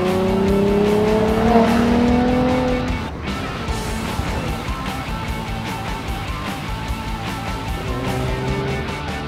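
A fifth-generation Ford Mustang engine roars loudly while driving, with tire squeal and rising revving tones in the first few seconds, then settles into a steady, close rumble.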